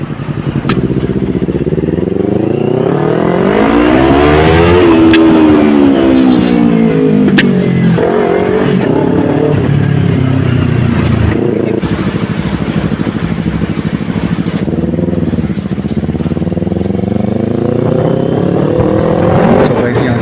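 A Kawasaki Ninja 300 motorcycle ridden at high speed on the NH2 highway, its engine droning loud and steady with rising and falling revs and heavy wind rush throughout, with no talking.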